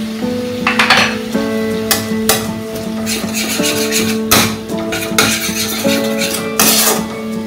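Ginger garlic paste hits hot oil in a pan of katla fish masala, sizzling loudly and steadily while a spoon scrapes and clanks against the pan in repeated stirring strokes, with a steady tonal hum beneath.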